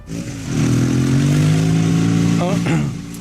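A motorcycle engine drones steadily while riding, a close mid-pitched hum that swells and eases slightly, with a voice briefly heard over it near the end.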